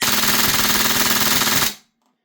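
Novritsch SSQ4 HPA airsoft rifle firing a loud, rapid full-auto burst with a fast popping rhythm, close up, cutting off abruptly into near silence.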